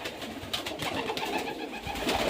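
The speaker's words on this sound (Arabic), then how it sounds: "برضو هنا برضو حمام بيض اهو." Pigeons coo softly in low, throaty warbles at a pigeon farm, several birds close by with rustling in the background.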